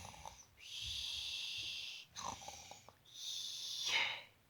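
Children in a Spanish vocabulary lesson imitate snoring, making three drawn-out breathy, snorting rasps one after another, fairly faint with short pauses between them and no words.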